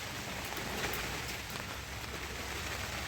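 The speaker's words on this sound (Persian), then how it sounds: "صدای باد و بارونه الان" Steady rain pours onto surfaces during a storm, a dense, even hiss with scattered droplet taps and no pauses, moderately loud and without voices.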